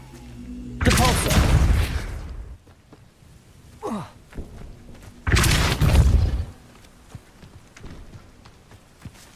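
Two loud Depulso spell blasts in Hogwarts Legacy, each a forceful whooshing burst lasting over a second, separated by a short quieter stretch with a brief chirp and faint game noises.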